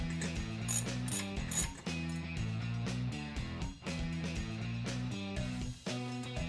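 A cordless drill with a 13 mm socket backs out the factory bolt holding the front cowl and bumper of a Yamaha Drive golf cart, with a close, continuous ratcheting whir rising and falling in bursts for several seconds.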